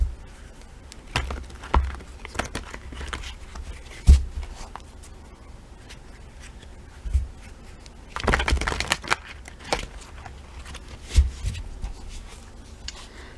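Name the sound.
shuffling tarot cards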